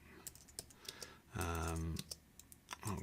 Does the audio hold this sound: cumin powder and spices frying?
no